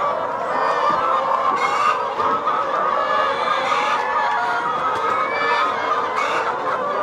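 Many chickens on a poultry farm clucking and chattering together in a dense, continuous flock noise, with occasional louder squawks rising above the steady din.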